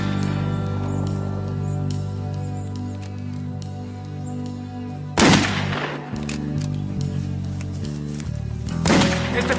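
Two sharp gunshots crack out over a steady musical backdrop, the first midway through and a second near the end, both loud and close.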